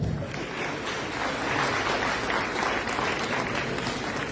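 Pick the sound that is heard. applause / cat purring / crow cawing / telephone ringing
applause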